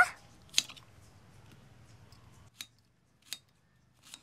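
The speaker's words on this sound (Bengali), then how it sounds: "ছুরিতে কিন্তু খুব ধার আছে, ওই জন্য গ্যাস গ্যাস করে পেঁয়াজ কেটে যাচ্ছে" An onion being cut with a very sharp knife, a few crisp separate slicing snaps against the board with quiet gaps between them, close up and with no talking.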